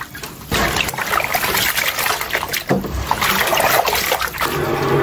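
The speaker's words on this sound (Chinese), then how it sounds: "再来用清水洗一下。" Clean water splashes and trickles over pork intestines being rinsed by hand, loud close sloshing with irregular pours and bursts of handling noise, continuous for the whole stretch.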